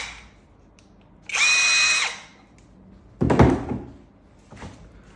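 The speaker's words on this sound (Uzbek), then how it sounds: "Gayka yurti 2 xil rejimda ishlaydi." A battery-powered cordless impact wrench with two speed modes and forward and reverse runs in one steady, close high whine of under a second, followed by a heavy thunk and a fainter knock.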